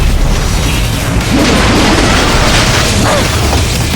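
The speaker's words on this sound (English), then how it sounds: "So they absorb too much energy and they explode, of course." An overloaded robot blows up in Metal Gear Rising: Revengeance, a loud, dense boom with crashing debris that fills the whole stretch without a break, with no talk over it.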